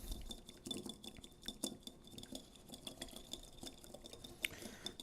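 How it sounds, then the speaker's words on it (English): A whisk rapidly beating parsley vinaigrette in a bowl, giving quiet, quick metallic clinks and ticks in an irregular flurry, close and faint. "I'm just going to take our whisk and whisk that together really quickly"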